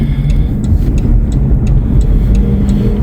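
A four-wheel drive car drives along and turns onto a street in snowy conditions, giving a loud, close, steady engine drone with road rumble and faint regular clicks like a turn signal, with no talk over it.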